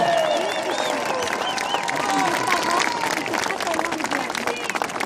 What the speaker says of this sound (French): Mon cher Robert, maire de Béziers, vous pouvez applaudir encore aujourd'hui pour son action